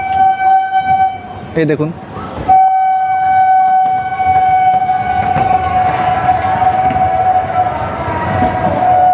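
A train runs along the line beside the Thakurnagar Matua Mela fairground, its horn sounding as a long, steady tone over rumbling wheels and crowd noise, while someone briefly talks.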